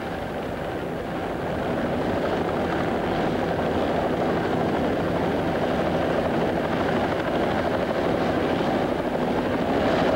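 Police helicopters hover over water during a 1982 rescue, a steady heavy rotor drone that rises a little and stays loud and continuous, with no talking.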